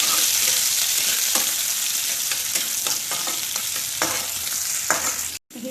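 Ginger, onion and green chillies fry in a pan with a steady, loud broadband sizzle, punctuated by several sharp stirring scrapes and clicks, ending in a brief cutoff.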